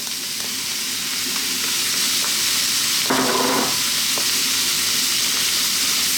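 Indian-style spicy chicken noodles stir-fry over high heat in a hot pan, giving a loud, continuous sizzle with a brief, sharper hiss of tossing partway through.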